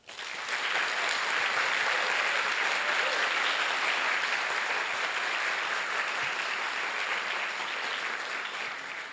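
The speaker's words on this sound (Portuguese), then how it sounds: "a quem peço uma salva de palmas" Audience applause at a documentary premiere event swells quickly into steady sustained clapping from a sizable crowd, lasting several seconds before easing off slightly at the end.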